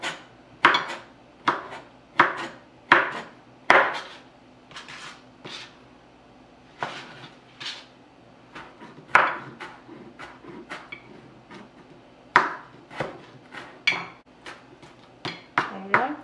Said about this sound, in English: Just slice it in small pieces